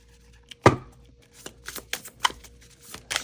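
Tarot cards riffling and slapping together in short bursts, with soft taps and scrapes between them, close and fairly loud.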